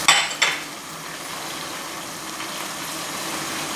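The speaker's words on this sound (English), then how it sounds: "what we're going to do now is stir in the cream" Cream being stirred into a chicken curry in a hot pan: a couple of sharp utensil clinks against the pan at the start, then a steady soft sizzle and stirring scrape, close and moderately loud, with no talk.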